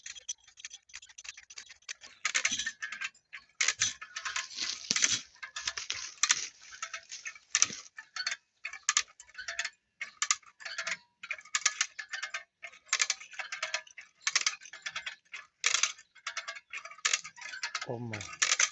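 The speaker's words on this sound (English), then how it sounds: "trying to winch that thing in there" A hand winch ratchets outdoors while a heavy object is hauled into a hügelkultur garden bed, its dry clicks coming close in irregular quick bursts that run on without pause.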